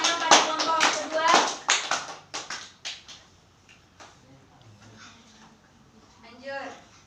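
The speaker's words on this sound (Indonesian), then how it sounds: "Tepuk tangan pada kelompok kedua" A classroom of students claps for the second group, a short burst of close, sharp handclaps that fades out, followed by quiet and a brief voice.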